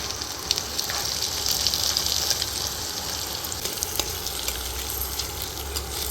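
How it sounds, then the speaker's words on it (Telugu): Mango mutton curry with masala being stirred in a steel pot, a steady sizzle and bubbling under repeated scrapes and clinks of the spoon against the metal, close and moderately loud. "మసాలా ముక్కలకు బాగా పట్టేలా కలపండి"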